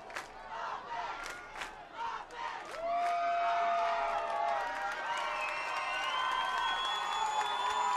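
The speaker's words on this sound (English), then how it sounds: "The home crowd's a little excited here. We're all clapping our hands and shouting offense." A home crowd at a Harding Presidents college football game against Mt. Vernon claps in quick bursts, then swells into sustained loud cheering and shouting that fills the stadium.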